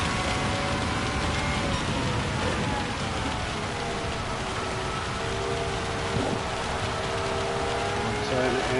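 Heavy rain pours in a wet-weather race on the Tsukuba circuit in Gran Turismo 7. The hiss is dense and steady throughout, with a car engine droning faintly beneath it.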